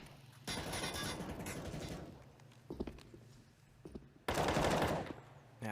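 M4 rifles firing in CS:GO on the Cache map, with two dense rapid bursts of automatic fire, the second one louder and closer, separated by a few scattered single shots.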